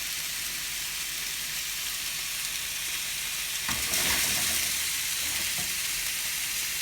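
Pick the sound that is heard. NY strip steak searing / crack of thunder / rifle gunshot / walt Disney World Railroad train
NY strip steak searing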